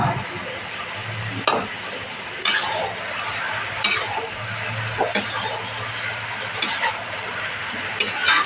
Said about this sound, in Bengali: এখন এর মধ্যে দিয়ে দেবো বন্ধুরা এই চিংড়ি মাছগুলো, দিয়ে দিচ্ছি চিংড়ি মাছটা।